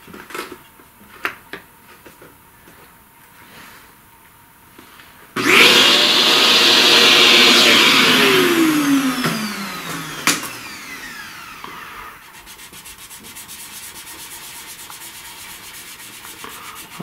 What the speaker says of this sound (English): let's vacuum some of this mess.